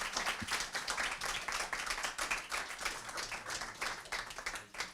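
Audience clapping at a university pitch competition, a dense steady patter of many hands sustained for several seconds at moderate level with no voices over it.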